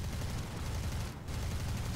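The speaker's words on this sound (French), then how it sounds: "j'ai déjà vidé les mitrailleuses, elles se vident très rapidement ces mitrailleuses" Machine guns on a Yak-1 fighter plane fire in War Thunder, a loud, dense, continuous rattling burst with a brief pause midway before it resumes.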